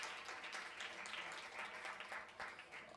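Faint audience applause for a guest on a Detroit techno talk show, a soft, continuous patter of many hands clapping, heard at a distance and quiet overall.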